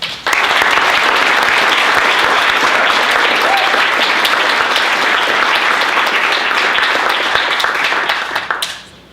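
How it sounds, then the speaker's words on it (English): An audience at a live comedy talk applauds a speaker named Abe Sorberg: dense, loud, sustained clapping from a crowd that fades away near the end. "So everybody, please give a warm round of applause for Abe Sorberg."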